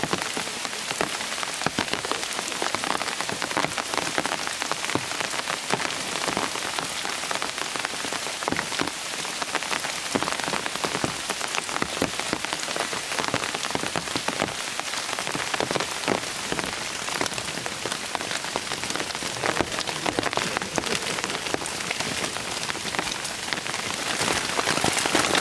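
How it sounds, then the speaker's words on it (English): Steady, dense rain patters on a tent on the Appalachian Trail during an evening rainstorm, a continuous close hiss of drops with no voices. "We got our first rainstorm."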